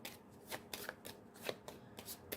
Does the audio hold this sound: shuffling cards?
yes